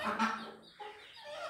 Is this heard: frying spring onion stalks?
no